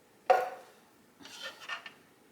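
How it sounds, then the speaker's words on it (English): A spoon stirs arroz con leche in a pot just after evaporated milk goes in: two brief, quiet scraping strokes against the pot. "And stir that up."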